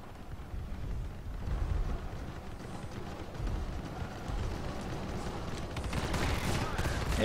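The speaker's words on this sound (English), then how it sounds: "I think I've got a few bullets coming my way" Sustained bursts of gunfire and explosions in the space combat game Star Citizen during an Aurora LN flight test, a dense continuous barrage that swells toward the end, with voices talking over it.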